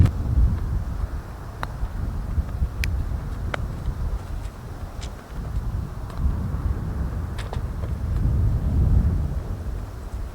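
Wind buffets a microphone on a golf course, a steady low rumbling roar lasting throughout, with a few faint ticks and chirps over it.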